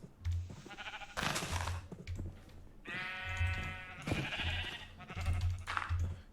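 Sheep in the Minecraft video game bleat several times in short, nasal calls, close and clear, alternating with quiet gaps and soft game noises.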